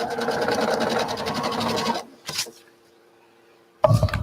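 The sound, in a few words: sewing machine stitching quilt pieces together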